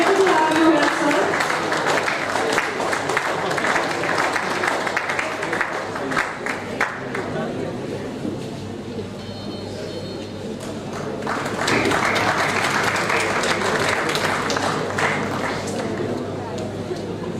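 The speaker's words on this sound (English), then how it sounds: "please give a big round of applause to the sir" Audience applause at a national conference, a broad wash of clapping from a large crowd that swells, dips midway, then rises again, with a speaking voice heard over parts of it.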